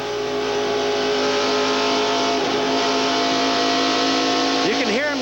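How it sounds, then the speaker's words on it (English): A race car in the 1994 IROC finale at Michigan, heard onboard while drafting in a pack, its engine droning loud and steady, then rising and falling as the driver lifts and reapplies throttle near the end, under a commentator's talk. "You can hear him getting on and off the gas"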